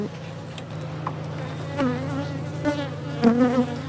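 Honeybees buzz in an open hive during an inspection, a steady close drone with individual bees whining louder as they fly past the microphone.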